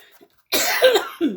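A single close, sharp cough with a brief rough follow-through, then a short second burst right after.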